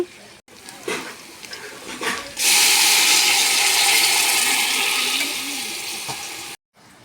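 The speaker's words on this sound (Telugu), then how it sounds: "నేను ఇప్పుడు నీళ్ళు వేస్తున్నా." A strong rush of water pours into a cooking pot on a wood-fired stove after a few soft clinks and knocks, pouring steadily for several seconds before cutting off abruptly.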